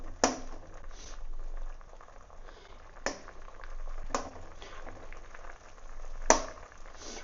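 Pieces of plantain simmer in a pot of boiling water for a Tamil mor kuzhambu, giving a soft continuous bubbling with a few sharp clinks or taps scattered through it, and no voices.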